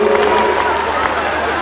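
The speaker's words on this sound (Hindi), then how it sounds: "तालियां बजा दीजिए" Festival crowd at the three-day Betalghat Mahotsav applauding steadily, a dense wash of claps with some cheering, continuous and fairly loud throughout.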